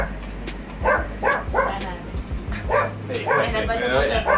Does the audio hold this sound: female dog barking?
yes